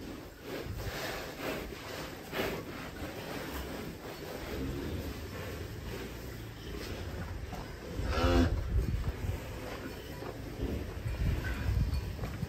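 Cattle lowing and mooing at a cattle contest on a farm, a long deep moo rising near the end, amid continuous farmyard noise.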